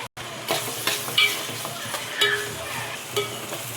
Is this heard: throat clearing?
no